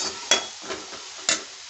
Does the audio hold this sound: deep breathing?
no